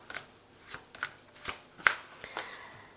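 A deck of tarot and oracle cards is shuffled by hand in a series of crisp riffling bursts spaced about half a second apart, close and clear, with no voices.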